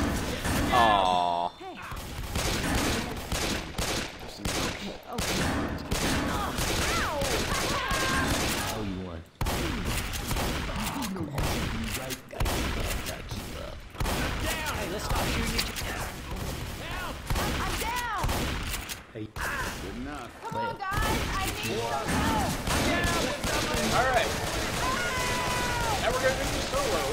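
Gunfire in Left 4 Dead 2 during co-op play, with dense, rapid, loud bursts of shots and automatic fire that run almost continuously and stop briefly now and then, alongside players' voices.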